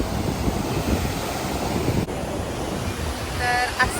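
Ocean waves break and wash steadily on a Goa beach in the evening, a continuous broad surf roar with some wind noise on the microphone, fairly close and unbroken throughout.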